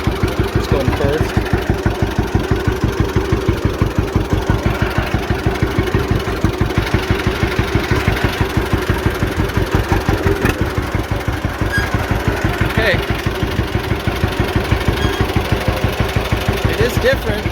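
A John Deere A tractor engine chugs steadily in first gear while driving down a road, its slow, even two-cylinder-style pulses loud and continuous throughout, with a voice talking over it.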